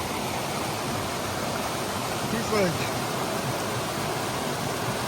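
Steady broadband rush of a stream running beside a wilderness trail in the 100 Mile Wilderness, continuous and fairly close, with a brief voice speaking over it.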